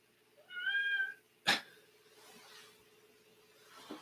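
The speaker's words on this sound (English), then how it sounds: "It sounds like a cat stuck under something." A cat gives one clear, fairly close meow lasting about half a second, followed by a sharp thump or knock and then faint, quiet background noise.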